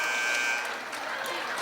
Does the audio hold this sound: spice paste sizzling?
no